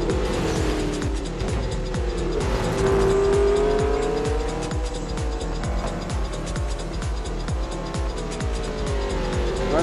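Racing cars roar past one after another at an auto race, engines loud and continuous with rising and falling revs, whooshing pass-bys and tire squeal as they overtake.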